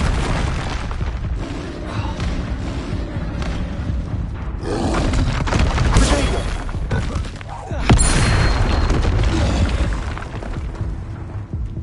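Spell-combat effects from Hogwarts Legacy, with an Expelliarmus disarming spell among them: a dense run of booming, crackling magical blasts over a steady rumble, with sharper bursts near the middle and a loud hit toward the end.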